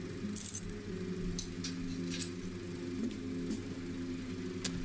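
Metallic clicks and key-like jingles of a door being locked in the video game Don't Escape 2, several short bright rattles over a steady low hum.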